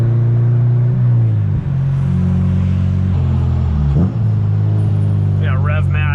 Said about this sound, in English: Look at that smooth rev match.